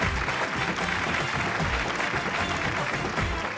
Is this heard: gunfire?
no